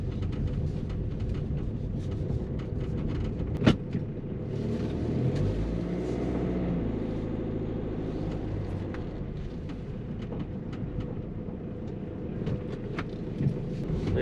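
Yamaha Tenere 700 motorcycle engine rumbling steadily nearby as it pulls away through the gears, with a sharp knock partway through and no talking.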